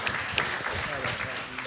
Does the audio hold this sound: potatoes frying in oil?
no